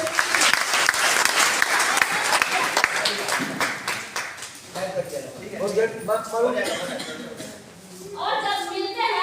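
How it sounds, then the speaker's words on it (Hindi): Loud applause from a crowd, dense clapping that gradually thins out, with a voice speaking over it toward the end. "भैया के लिए एक बार जोरदार ताली हो।"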